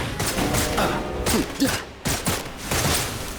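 Gunfire in the action game Wuthering Waves comes as quick volleys of shots mixed with combat effects and a brief voice line, dense and loud throughout.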